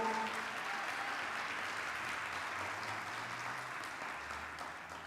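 A congregation at a family church service applauds softly, a faint, even wash of clapping that slowly dies down, with a low hum or tone underneath.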